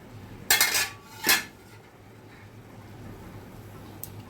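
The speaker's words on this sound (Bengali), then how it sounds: "এখন ঢাকাটা তুলে দেখে নিচ্ছি।" A pot lid is lifted off a covered pot of Gobindobhog rice and banana flower ghonto simmering on a low flame, giving two brief metallic clanks close by, then a quiet kitchen hum and one faint tap.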